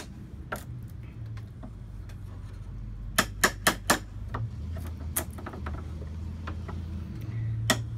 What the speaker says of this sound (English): We just tap real lightly and lift with the chisel to get the staples loose.